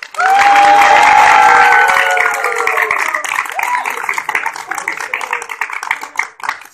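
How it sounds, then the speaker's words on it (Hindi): A theatre crowd at a Pakistani comedy stage drama bursts into loud applause and cheering, starting as a dense roar with whistling, then settling into steady, uneven clapping that tapers near the end. "मैं नाम दूंगा, आप सब लोग तालियां बजाएंगे"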